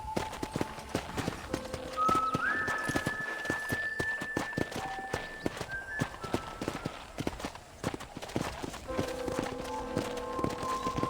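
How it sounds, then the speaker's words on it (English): Horse hooves clip-clop at a steady walking rhythm as a rider tours a ranch in the Red Dead Redemption video game, with a faint tonal background and light game sounds underneath. "let's see if you can still ride a horse"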